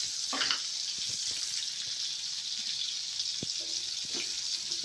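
A chicken egg frying in an oiled pan gives a steady, close sizzle throughout, with a few faint clinks and light stirring sounds over the hiss.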